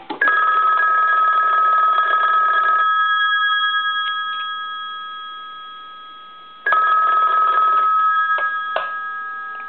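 An ITT Desk 500 rotary telephone's bell rings loudly in two long bursts separated by a pause of fading resonance, close and metallic.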